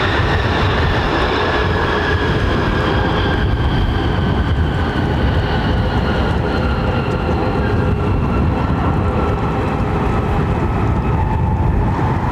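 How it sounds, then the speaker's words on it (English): A streamliner train rolls past close by with a loud, steady rumble and wheel roar, high metallic brake squeal tones running through it for the whole stretch. "Listen to those brakes, man."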